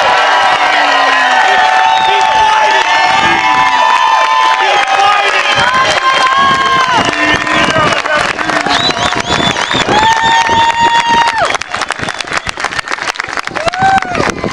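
A Tea Party rally crowd cheers, whoops and shouts loudly and steadily throughout, with many overlapping voices and some clapping in a dense, continuous roar.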